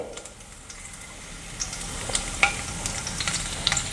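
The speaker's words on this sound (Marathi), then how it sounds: "आता पॅनमध्ये तेल आणि बटर गरम झालेलं आहे मी थोडे जिरे घालते" Cumin seeds hit hot oil and butter in a pan, a close sizzle that builds over a few seconds with scattered sharp crackles and pops, no talk.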